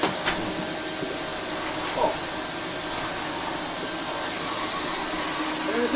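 Restored and refurbished Hoover Sensotronic Total System 40 S3454 vacuum cleaner running steadily, a loud, constant whining hiss with no breaks, close by and alone.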